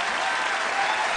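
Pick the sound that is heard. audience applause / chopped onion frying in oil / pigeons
audience applause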